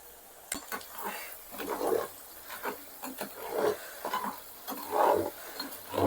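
Chicken pickle is stirred with ground spice powder in a pan, making repeated scraping, shuffling strokes with occasional clinks in an uneven rhythm, close and moderately loud.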